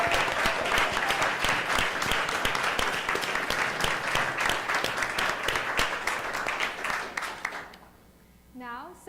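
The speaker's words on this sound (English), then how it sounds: "Let's give one last round of applause for our wonderful team." An audience at a startup demo day applauds its team with sustained, dense clapping that fills most of the stretch, then thins and fades near the end as a voice begins to speak.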